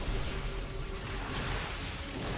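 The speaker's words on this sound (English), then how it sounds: "that's the sound of like 30 Banelings being produced at the same time." A dense, continuous wash of squelchy, bubbling noise, about 30 Banelings being produced at once in StarCraft 2, steady and fairly loud.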